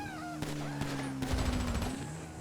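Gunfire in a GTA V zombie mod while riding a motorcycle, a few sharp, fairly faint shots in quick succession over a steady engine drone.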